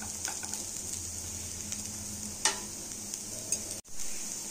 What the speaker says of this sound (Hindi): इन सारे सामग्री को लो फ्लेम में फ्राई कर लिए हैं।